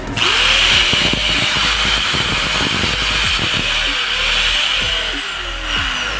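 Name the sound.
electric angle grinder running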